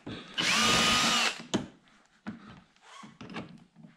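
A power drill removes 7mm screws from a C7 Corvette in a loud, close whir lasting about a second, followed by quieter clicks and handling knocks as parts are moved.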